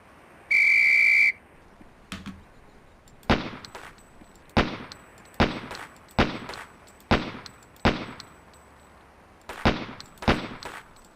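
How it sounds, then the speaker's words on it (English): In the Police Quest SWAT game, a sharp whistle blows once to start a reflex shooting drill, followed by a series of loud, evenly spaced gunshots. "On the whistle."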